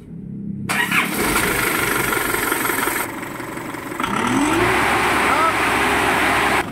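An Isuzu D-Max diesel pickup engine cranks and starts abruptly, then settles into a loud, steady idle with a rough, knocking rumble.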